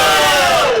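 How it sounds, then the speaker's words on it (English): A crowd of gamers at a Warhammer 40k open day gives a brief, loud cheer, a single short burst of shouting voices that fades at the end. "A cheer for Brendan."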